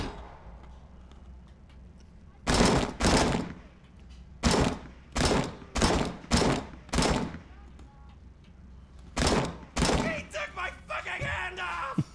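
Gunfire in the RoboCop video game, loud sharp bursts of shots in separate volleys, several close together mid-clip and another pair later, over low background game noise.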